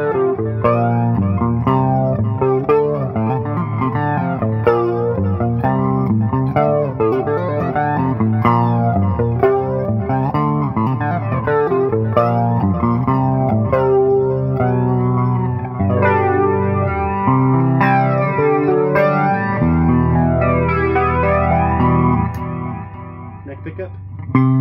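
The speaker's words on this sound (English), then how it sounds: "now we got the P90s with some clean tones" Gibson Les Paul Standard electric guitar with P90 pickups played through clean tones, a continuous run of strummed chords and picked notes filling the whole stretch, loud and close with a touch of effects shimmer, no talking.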